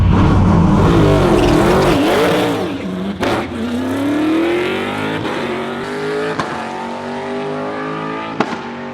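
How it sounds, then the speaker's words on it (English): Hard launch of a street car in a race against a V8 Supercar, the engine screaming up through first gear with wheel spin, loud and close, rising revs with a brief break near three seconds before climbing again. "wheel spin, wheel spin, wheel spin, all the way through first"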